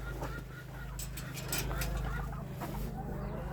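Australorp hens clucking in a farmyard poultry run, a few soft scattered clucks over a steady low hum, with a brief voice.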